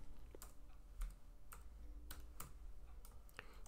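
Computer keyboard keys clacking in a quiet room, a handful of separate sharp taps spread over a few seconds, faint and close, with no talking.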